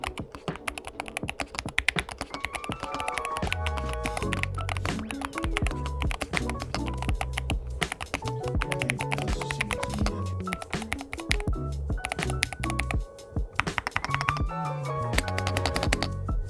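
Continuous fast typing on a stock keyboard with magnetic switches, dense crisp key clacks in quick irregular rhythm with occasional heavier thocks, close and clear, without talk.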